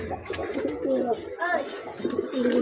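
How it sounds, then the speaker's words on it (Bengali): Domestic pigeons cooing in their loft, soft repeated throaty coos close by, with someone talking over them throughout. "এই দেখুন পায়রা, এই দেখুন পায়রা।"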